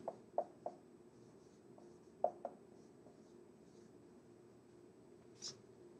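Faint pen or marker strokes during a physics lecture on electric potential, a few short scratchy taps in two small bursts with quiet room hiss between them and one soft higher squeak near the end, no talking.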